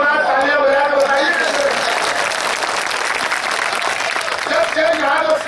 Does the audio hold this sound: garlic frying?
no